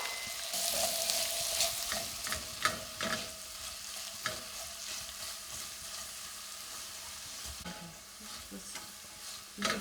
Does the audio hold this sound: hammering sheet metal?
no